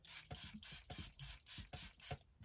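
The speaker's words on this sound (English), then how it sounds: "You're going to want to shake and just spray." Charlotte Tilbury setting spray is shaken and spritzed in a rapid series of short, close hissing mist bursts with rattling between them, no talking.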